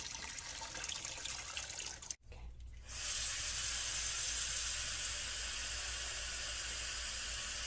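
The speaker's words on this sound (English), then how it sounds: "you're going to fill up the tub about 1/3 of the way with water" Water rushes steadily from a tap into a papermaking tub, a continuous hissing splash with a brief break before it resumes, slightly brighter.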